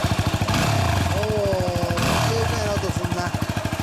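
A 2017 Yamaha WR250R trail motorcycle with an aftermarket exhaust idles and is blipped up close, a rapid single-cylinder putter that rises in pitch and falls back twice, with people talking over it.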